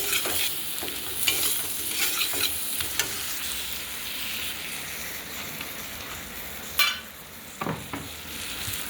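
Steady sizzling of spices frying in a pan for a rohu fish curry, with intermittent scraping and stirring clatter throughout; no voices.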